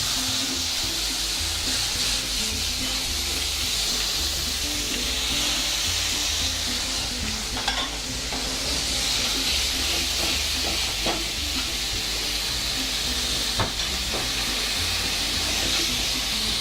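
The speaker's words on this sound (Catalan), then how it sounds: "Quan tenim tot això, simplement flambegem amb rom." Langoustines flambéed with rum in a pan, a dense continuous hiss and sizzle with crackling throughout, loud and steady from start to end.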